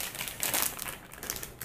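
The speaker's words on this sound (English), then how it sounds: "we're going to tear the packet." A snack packet is pulled and torn open, giving crisp plastic crinkling and crackling in short bursts, loudest midway, close up with no talking.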